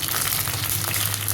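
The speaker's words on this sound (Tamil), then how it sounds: "சோம்பு பொரிஞ்சதுக்கப்புறம் நான் வச்சுருந்த வெள்ளைப்பூடு வந்து அதில் போடுறேன்" Garlic sizzling and frying in hot oil with fennel seeds, a steady close crackle with no voices.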